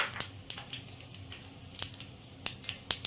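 White sesame seeds sizzle in hot oil during a dhokla tempering, a soft frying hiss broken by a few crisp, louder pops.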